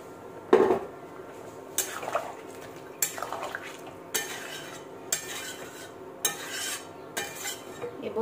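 Hot water is added to mutton curry (khasir mangsho kosha) and stirred in a pot, giving quiet, regular scraping clanks of a spoon against the pot about once a second.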